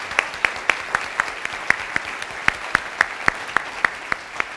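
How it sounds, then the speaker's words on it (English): A town hall audience applauds a university president's event, with sparse, distinct claps spaced across the clip rather than a dense roar, fairly close and moderately loud. "let's give them a round of applause as well"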